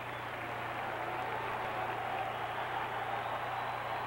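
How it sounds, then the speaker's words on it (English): A basketball crowd at an Iowa Hawkeyes versus Illinois Fighting Illini game in 1980 gives a faint, distant, steady roar of cheering and applause over a low hum. "And the crowd comes to life right now"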